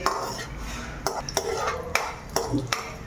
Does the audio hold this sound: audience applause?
no